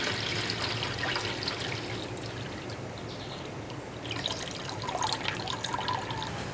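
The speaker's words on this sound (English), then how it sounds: "And we can add a little water to it too now." Water poured into a bucket of worm tea made from worm castings for pesticide-free fertilizer, a steady close splashing trickle that swells louder near the end, with no talking.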